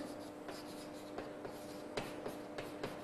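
Chalk or marker tapping and scratching on a board during a physics lecture on refraction, with sparse, irregular strokes, quiet and near, over a steady low hum.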